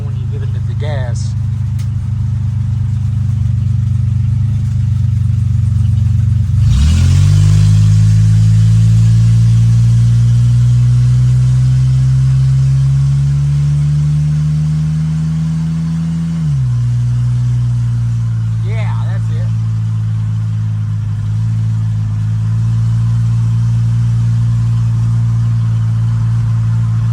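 An old barn-find car's engine idles, then revs up sharply, holding a rising roar before dropping back to a steady idle; voices talk intermittently over the running engine.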